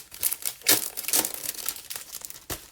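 Crinkling and crumpling of a 12 by 12 pack of vellum paper being opened, close and crisp, with several sharp rustling bursts in quick succession.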